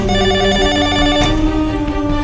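A telephone rings loudly and continuously, a bright electronic ring repeating close by with no talking.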